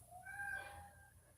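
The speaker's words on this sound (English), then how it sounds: "the cat is okay. He's just having a moment." A house cat gives a single drawn-out meow, faint and somewhat distant in a quiet room, rising and then tapering off.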